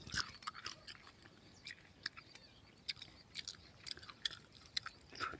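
Someone chews roasted palm shoots up close, giving soft irregular crunches and bites with a quiet, fibrous texture and no talk.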